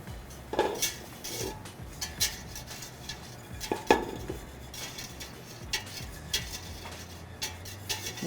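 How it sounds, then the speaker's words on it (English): Metal whisk scraping and clinking against a pan as flour is worked into melted butter over medium heat, a run of light rhythmic taps and scrapes, close and fairly quiet with no talk. "I'm gonna take our whisk. We're just gonna whisk our flour in."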